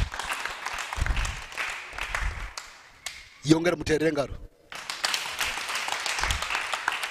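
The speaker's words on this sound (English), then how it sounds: "Can you clap for him in Jesus' name?" Church congregation at a Saturday altar prayer service claps in scattered, moderate bursts, with a preacher's voice speaking between and over the clapping.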